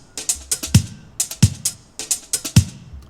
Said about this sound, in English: the main basis of the drums is from this break